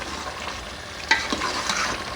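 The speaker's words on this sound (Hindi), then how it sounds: "ये देखें पालक गोश्त की अच्छे तरीके से भुनाई हो चुकी है। इसने ऑयल छोड़ दिया।" Spinach and mutton curry fries in oil at the end of cooking, giving a steady soft sizzle with a few scraping stir strokes, close and fairly quiet, no talking.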